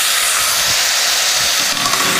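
Thin spaghetti hits hot browned butter in a pan and sizzles in a loud, steady hiss that holds unbroken throughout, with no voices.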